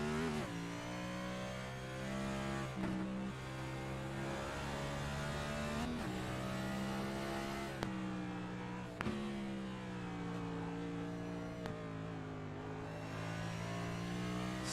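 An iRacing race car at Circuit of the Americas downshifts through the gears, its engine pitch stepping down repeatedly with sharp blips between gears, loud and close, alone without talk.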